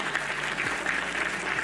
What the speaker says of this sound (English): Don't clap that.